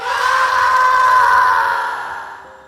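A man's loud, sustained scream of terror rises and holds strongly, then fades away over a couple of seconds, close and alone without other voices.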